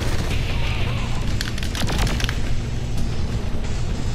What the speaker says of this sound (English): With all these explosions, either it's under attack or it's coming apart.